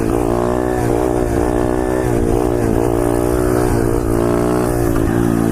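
Pit bike engine revving hard and steady during a wheelie, loud and close with a continuous buzzing drone and slight pitch wavers.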